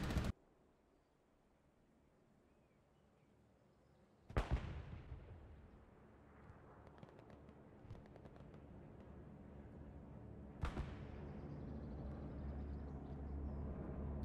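Gunfire and explosions in the World War II shooter Hell Let Loose during a beach crossing, with two sharp, loud blasts separated by several seconds over a steady rumble of distant battle.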